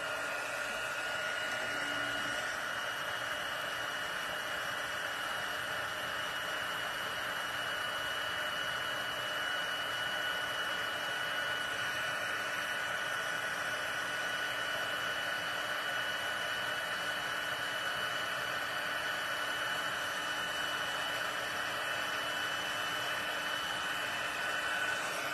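A heat tool blows in a steady, even whoosh for the whole stretch as it melts embossing powder on a handmade card, a constant airy roar with no talk over it.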